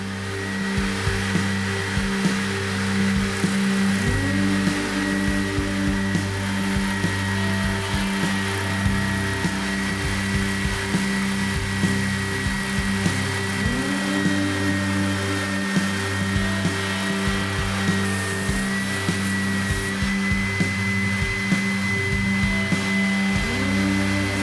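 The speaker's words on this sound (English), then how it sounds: "I'm just going to get this onto the bobbing sander and just clean everything up" A bobbin sander smooths a wooden tenor ukulele body, a loud steady motor whine with a constant hum and shifting tonal sweeps as the wood is pressed against the spinning drum, with no voices.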